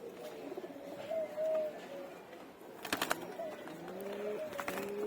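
Pigeons, a large adult among young birds, coo softly in a few drawn-out calls with short gaps. A brief flurry of movement comes midway, and the sound stays fairly faint throughout.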